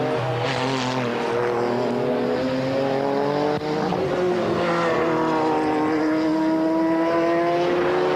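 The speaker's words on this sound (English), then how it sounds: "the McLaren of Owen-Jones coming up behind the Ferrari of Neugarten" A McLaren and a Ferrari GT race car from the 1995 BPR Global GT Series at Jerez roar around the circuit, their loud, continuous engine notes climbing and falling in pitch as they run close together.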